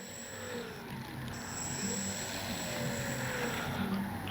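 Dynam Tiger Moth electric RC biplane flying overhead, its propeller giving a steady buzzing drone with slowly shifting pitch as it passes, moderately distant and continuous throughout.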